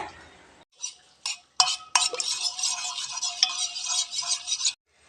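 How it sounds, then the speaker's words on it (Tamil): Yogurt beaten with a spoon in a bowl while cooking a ladies finger dish, quick scraping and clinking strokes in irregular bursts after a short quiet start, close and moderately loud. "இப்போ இது நல்லா ஸ்பூனில் அடிச்சுட்டு எடுத்து ஊற்றிடலாங்க"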